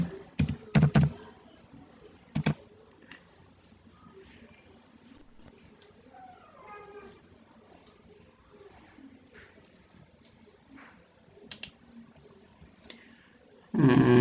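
Scattered key presses as a password is typed on a computer keyboard, sparse and soft, with a few louder thumps at the start and end and quiet gaps between taps.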